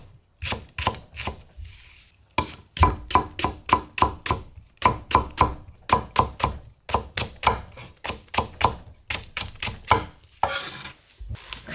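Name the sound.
chopping green onions with a knife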